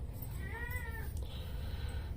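A cat meows once, a short rising-falling call over a low steady background hum, with no talking.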